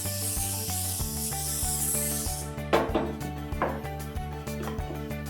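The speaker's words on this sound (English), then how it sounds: "You're gonna Pam it so that it's easy to clean later" A steady hiss of Pam cooking spray coats a lipped baking pan in the first half, followed by scraping and rubbing over a constant low kitchen hum, close up.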